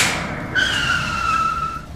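A car rushes in and skids, tires squealing in a long, loud screech that slides down in pitch over about a second and a half, a staged sound effect with no voices.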